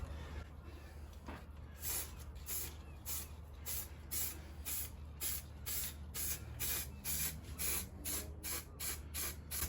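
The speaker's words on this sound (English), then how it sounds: "We start spraying underneath on the bad edges, get up under there, and then we dust around the top." Primer sprayed from a spray gun over body filler on a Jeep Patriot, heard as a steady run of short hissing bursts with brief gaps, close and loud over a low background hum.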